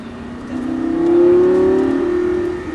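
A stunt-show car pulls out of a tight hairpin turn, its engine revving up in a rising tonal whine that peaks and eases off over a few seconds, close and loud with no talk.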